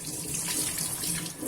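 Water runs from a kitchen tap while a dish scrubber is rinsed beneath it, making a short, steady splashing gush at close range with no voices.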